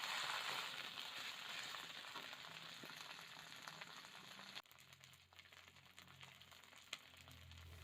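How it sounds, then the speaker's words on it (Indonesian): Lemongrass, lime leaves, cardamom, cinnamon, star anise and bay leaves frying in a pan for Minang gulai, a faint steady sizzle that drops quieter partway through, with small crackles and no talk. "Kita tumis sebentar."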